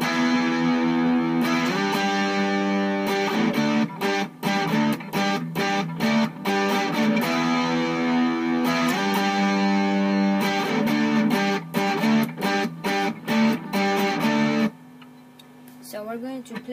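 Distorted electric guitar plays the bridge of a song with choppy, repeated power-chord strums and short muted gaps, loud and close, before dropping to a quieter ringing tail.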